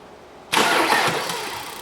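A hard-starting, smoky diesel car with low power cranks and catches after a short silence, then settles into a loud, rough idle close by.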